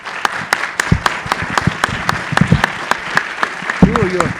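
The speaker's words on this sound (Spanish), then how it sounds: "para quien pido un caluroso aplauso de bienvenida" An audience bursts into warm applause welcoming the writer Paco Ignacio Taibo II to the stage, a steady crowd of clapping hands with a voice briefly heard near the end.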